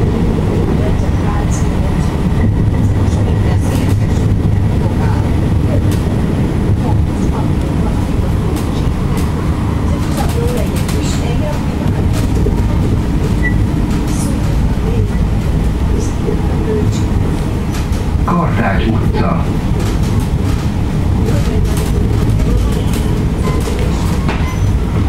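A loud, steady rumble of a Debrecen line 2 tram in Hungary rolling on rails, with rhythmic clacking and brief squeals of wheels throughout, heard from inside.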